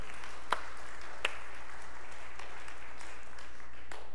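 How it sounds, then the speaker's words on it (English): A congregation in a church sanctuary during a worship service gives light, scattered applause, with a few sharper claps standing out over a soft, sustained patter. "You can clap."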